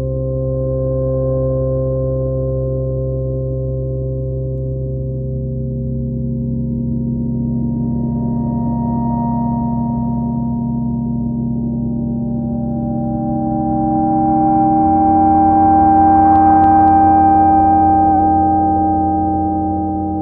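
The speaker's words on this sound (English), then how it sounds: "some other patches here just so you can hear some things that I've programmed into the Alpha Juno" Sustained Roland Alpha Juno synthesizer tones with layered steady pitches that shift partway through, a smooth electronic pad swelling slightly louder toward the end.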